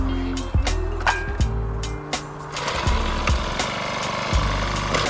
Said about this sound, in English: let's get the auger out.